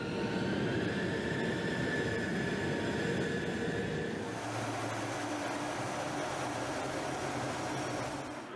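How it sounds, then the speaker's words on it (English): A B-2 stealth bomber takes off from a runway with a loud, continuous jet-engine roar and high whine. Partway through the tone shifts to a deeper rumble, and the noise holds steady with no voices. "the ground crew and air traffic control start guiding the plane through the runway,"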